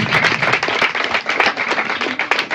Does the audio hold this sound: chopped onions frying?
no